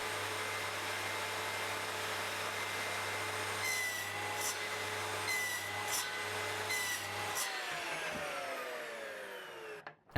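A Dewalt DWS774 mitre saw runs with a steady high motor whine while cutting wood without a dust extractor, a few short rasping bursts of the blade in the material, then the motor winds down near the end.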